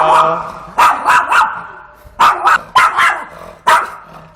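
A misbehaving pet dog barks loudly and close by in short bursts, with several sharp barks grouped in twos and threes and brief pauses between them.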